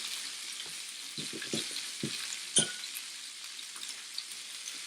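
Zucchini with turmeric frying in a pan, a soft continuous sizzle broken by several quiet scraping and clinking stirs, the loudest about halfway through.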